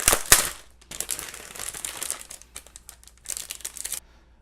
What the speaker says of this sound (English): So we'll get this plastic off.